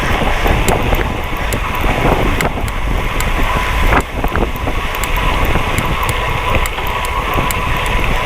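Steady, loud wind rushes across the microphone while riding a bicycle over open countryside near the River Swale, a continuous roaring buffet with a brief dip partway through and no talking.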